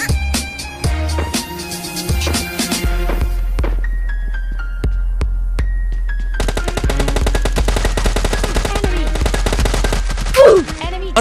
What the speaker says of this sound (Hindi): क्या गोली गोली चल रहा है का अंदर?